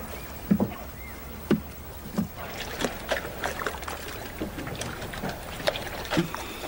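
Paddle strokes from a handmade wooden rowboat push through water at a steady rhythm, each stroke a close splash and dribble, with no talking.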